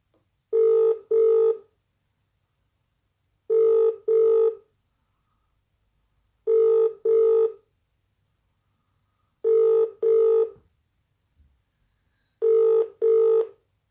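A telephone rings unanswered in an office, five clear double-pulse rings at a steady interval, loud and close, with silence between each pair and no voices.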